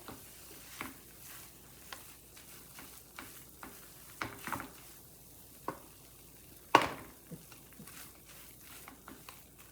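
A spoon stirs roasted flour mixed with ginger powder in a pan, giving soft scraping and sizzling with irregular taps against the pan's metal and one sharp clank, quiet and close, with no talking.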